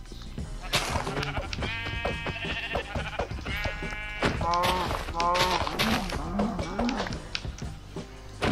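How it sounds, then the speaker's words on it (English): Sheep in the video game Minecraft bleat repeatedly, several overlapping calls in quick succession, loud and close, alongside lower moo-like animal calls and no talk. "I see sheep."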